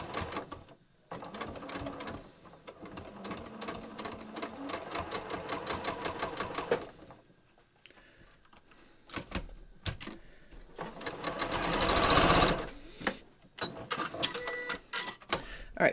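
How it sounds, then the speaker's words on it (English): A sewing machine stitches straight over a clip holding a fabric seam, running in loud rapid bursts with a pause between them, alone and close. "I'm going to just stitch right over the clip"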